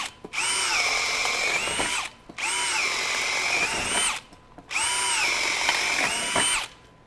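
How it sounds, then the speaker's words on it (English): A Bosch GSB18V-1330C hammer drill in high speed and drill mode whines through three long runs of boring with a 3/4-inch self-feed auger bit, each about two seconds, separated by brief pauses, loud and close. "we've got a self-feed 3/4 inch auger bit in here. We have it in high speed and we have it in drill mode."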